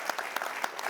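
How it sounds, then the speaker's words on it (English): A brief burst of audience applause at a summit meeting on empowering healthcare, quick overlapping claps from a sizeable crowd. "Maybe one last round of applause."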